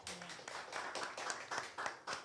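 Scattered clapping from a small audience at a Gilas Pilipinas basketball press conference for the FIBA Asia Cup Qualifiers, a faint, distant patter of hands in uneven bursts for a couple of seconds.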